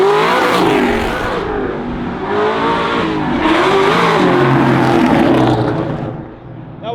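A 1000 hp Whipple supercharged Terminator Cobra engine revs hard and loud nearby, a continuous roaring pull with rising and falling pitch and supercharger whine that eases off near the end.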